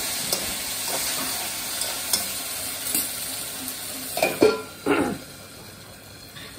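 Potato sabzi fries and sizzles in a pan with a steady hiss, while a spoon scrapes and stirs it in a few short clattering strokes.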